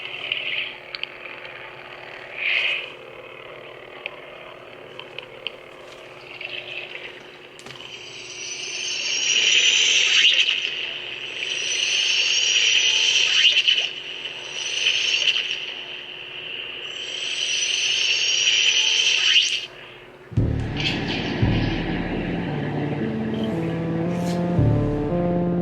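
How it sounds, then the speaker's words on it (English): An Aqua Force lightsaber sound font with an underwater style, played on a custom lightsaber from Jedi Arms Dealer, gives a steady hum with pulsing warbling swells, then a lower, thicker tone near the end. "It's called Aqua Force. So it's supposed to be like you're underwater when you hear this font."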